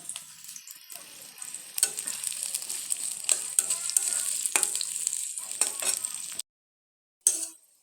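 Onions frying in a pan for an egg and potato curry, a steady close sizzle with bursts of stirring and scraping that stops abruptly before a brief final crackle.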